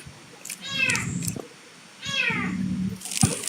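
A person imitates a cat, giving two long, wavering meows close to the microphone, separated by a brief pause and followed by a short sharp sound.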